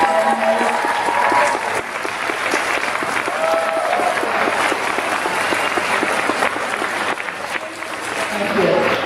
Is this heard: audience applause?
yes